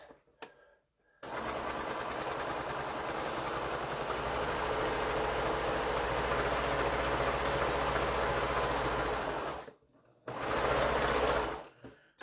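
A sewing machine stitches quilt fabric in a long steady whirring run, stops briefly, then runs again in a short burst before stopping.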